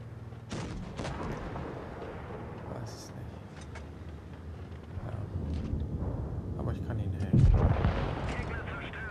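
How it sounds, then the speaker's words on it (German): Deep booming tank cannon shots in the game World of Tanks Blitz, fired by a Jagdpanzer E 100, thud a couple of times, with a heavy blast near the end, while someone talks over rumbling engine noise. "So, wieder einen Schuss verschwendet."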